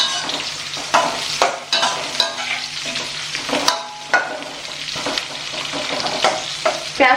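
Chopped onion frying in a pan of oil with carom seeds, mustard seeds and green chillies, a steady close sizzle broken by repeated scraping stirs of a spoon, with no talking.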